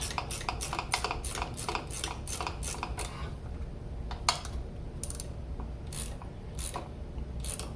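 Rapid ratchet clicks from a socket wrench tightening a front shock absorber nut on a Chevy S10 pickup, sounding in several quick bursts of ticking strokes, then a few slower separate clicks, close up with no talk.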